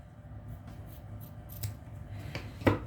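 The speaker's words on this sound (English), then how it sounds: "And you just trim off your excess." Scissors snip excess fishing line after a loop knot is tied for flounder rigging, a few soft close cuts and light handling rustle, ending with one sharper snip.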